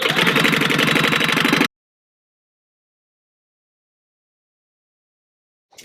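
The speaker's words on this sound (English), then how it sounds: "I'm going to sew a 1/4 inch all the way around" Sewing machine stitching a vinyl wallet panel: a fast, steady, close mechanical whirr of rapid stitching for under two seconds, then a sudden stop into silence, with a faint noise at the very end.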